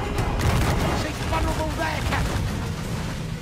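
Ship cannon fire in Assassin's Creed 4 Black Flag during a frigate battle at sea, a rolling barrage of deep booms and crackling volleys under a steady roar, with a player talking over the noise.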